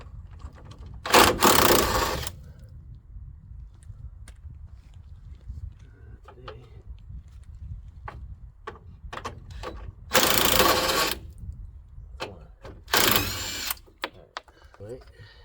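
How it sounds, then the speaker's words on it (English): Sawzall reciprocating saw cutting a rusty part on a Honda N600 engine: three loud, separate bursts of harsh buzzing cutting, each lasting about a second, with quieter tool clatter and handling noises between them. "I might have to sawzall this one."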